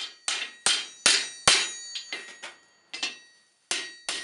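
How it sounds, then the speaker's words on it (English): A hammer forges the eye of a tomahawk trade axe around a mandrel, ringing metallic blows struck one after another in an uneven rhythm, close and sharp with brief decaying rings. "Now I'm going to pound out the eye and just clean things up"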